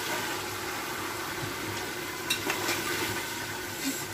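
Steady sizzling and crackling as nihari ingredients fry in a pan, a close continuous hiss with a few brief stirring scrapes near the middle.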